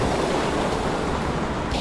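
A river flowing past a small artificial waterfall on a mountain bike trail in the Monti Gemelli, giving a steady, broadband rush of water that stays even and close throughout, with no voices.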